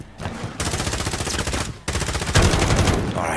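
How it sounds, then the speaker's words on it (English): A light machine gun firing in an online team deathmatch shooter, long loud sustained bursts of rapid automatic fire with a brief pause between them, close and dominant. "I'm using a light machine gun"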